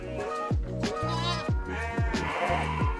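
A two-week-old F1 Awassi crossbred lamb on a breeding farm bleats over and over, close and loud, with a wavering cry repeating about twice a second and no talk.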